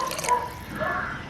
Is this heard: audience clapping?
no